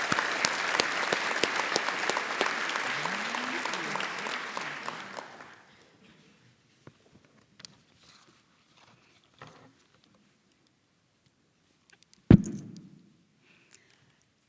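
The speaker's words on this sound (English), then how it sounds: "Welcome them with a round of applause" Audience applause at an annual awards luncheon, a dense burst of clapping for about five seconds that quickly fades, followed by scattered faint thumps and one sharp knock near the end.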